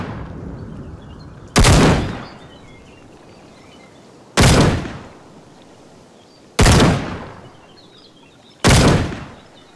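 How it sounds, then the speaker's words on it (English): Four loud, isolated shotgun blasts fire in an Unreal Engine game with Wwise audio, spaced about two seconds apart, each a sharp crack with a short decaying tail. "fire the shotgun. You should now hear the new shotgun fire audio assets being triggered."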